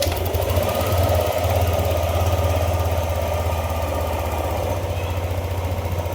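A Yamaha NMAX 155 V2 scooter engine runs steadily at idle close by, with a constant low rumble and a rapid, even mechanical pulsing.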